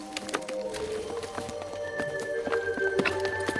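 Horses walking on a trail in Patagonia, their hooves clip-clopping in a steady, irregular rhythm at close range, with an occasional whinny and a high tonal hum running through the background.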